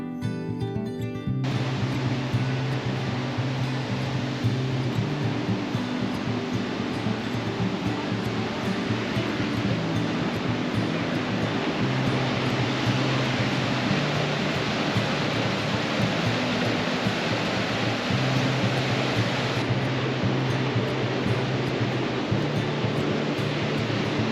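Steady roaring rush of a waterfall in a forest of huge trees on Vancouver Island, a dense continuous broadband wash with no pauses, loud and close throughout.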